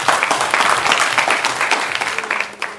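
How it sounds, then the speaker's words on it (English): An audience at a health justice forum claps in a steady, dense burst of applause that lasts a few seconds and tapers slightly at the end. "Let's give Shane a big round of applause"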